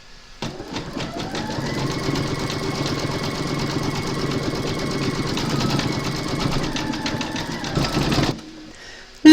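An embroidery sewing machine stitches a satin stitch edge round a candy cane design, a fast continuous mechanical whirring and rapid needle pulsing, close and steady, stopping abruptly near the end.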